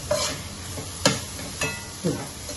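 Masala frying in oil in a pan for a salmon coconut-cashew curry, with a steady low sizzle and four distinct scraping stirs at uneven intervals, close and moderately loud.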